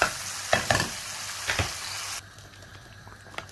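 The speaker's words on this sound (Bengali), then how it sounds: "এখন এর মাঝে আমি আগে থেকে সেদ্ধ করে রাখা আলু আর ডালগুলোকে দিয়ে দিচ্ছি।" Boiled potatoes and dal drop into spices frying in a pan, giving a steady close sizzle with a few scraping stirs before the sizzle thins to a faint hiss.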